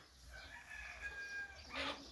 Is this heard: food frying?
no